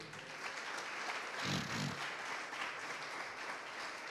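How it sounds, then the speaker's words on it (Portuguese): A church congregation applauds during a Pentecostal revival service, a soft, distant wash of clapping that stays steady throughout, with a brief low swell partway through. "Aplauda o Senhor"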